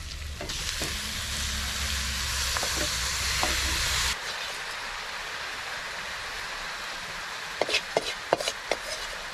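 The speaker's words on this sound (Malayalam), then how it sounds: "ആദ്യം നമുക്ക് ഇറച്ചി ചേർത്ത് കൊടുക്കാം" Pork pieces frying with sautéed onions in a pan for a Kerala-style pork curry, a loud dense sizzle for the first few seconds that drops to a softer simmer, followed by several sharp scraping and stirring knocks near the end.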